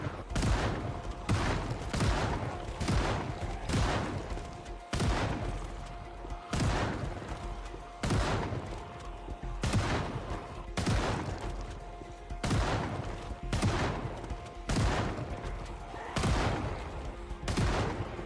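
Loud, evenly spaced gunshots fired at zombies in the video game Project Zomboid, roughly a dozen sharp blasts in a steady rhythm, each followed by a brief ringing tail, with no talking.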